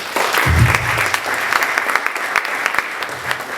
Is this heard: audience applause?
yes